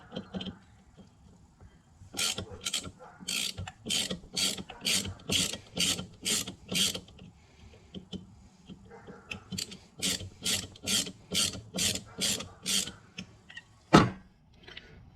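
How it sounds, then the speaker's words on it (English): A hand-turned screwdriver or ratchet backing screws out of a carburetor during a rebuild, two runs of rapid rasping clicks in even rhythm, close and moderately loud, ending with a single sharp knock. "So let's pull those screws out."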